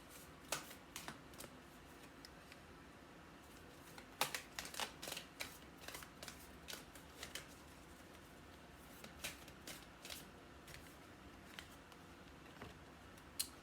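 Oracle cards being shuffled by hand, soft riffling and flicking with sharp little taps in an irregular rhythm, quiet and close, with no talk over it.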